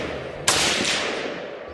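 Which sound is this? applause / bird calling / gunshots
gunshots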